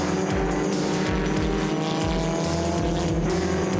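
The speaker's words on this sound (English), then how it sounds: "The Ray of Sean Hepburn leads a gaggle of cars through turn 5" Historic racing cars bunched in a close pack through a circuit corner, engines roaring loud and near with rising and falling revs and a touch of tyre squeal, continuous for the whole stretch with no voices.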